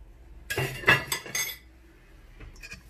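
Salt, paprika, curry and garlic being mixed in a bowl for chicken tenders: a few quick clinks and scrapes of a utensil against the bowl, close by, then a short pause and two lighter taps.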